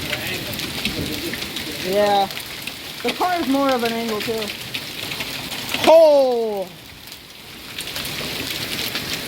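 Hail pelting a car and surroundings during a spring hailstorm in Spring Hill, Florida, a steady dense clatter like heavy rain, with people talking over it close by.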